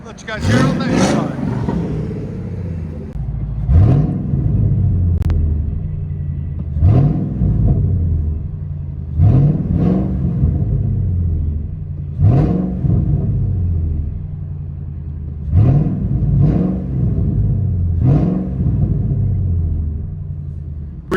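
A supercharged 5.4-litre V8 in a 2000 Ford Lightning with a Borla ATAK exhaust, heard from inside the cab, rumbles in a series of repeated revs that rise and fall about every two to three seconds.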